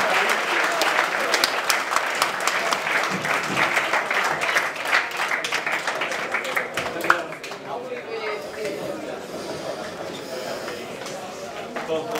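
Arena crowd at an Invictus Arena fight event applauds loudly, a dense sustained clatter of many hands that thins and fades toward the end, with voices mixed in.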